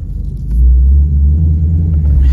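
A deep, loud Voodoo V8 engine rumble from a Shelby GT350 on hot laps, steady and throaty, swelling slightly as it passes close by.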